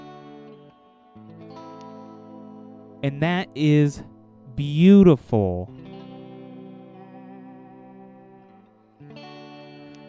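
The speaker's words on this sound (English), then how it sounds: "we're gonna go over to this clean sound and see what we get. We're on bridge pickup" A clean electric guitar on an Epiphone Brendon Small Explorer's bridge humbucker plays sustained, ringing chords with a bright, slightly jangly tone, broken midway by a short burst of spoken words.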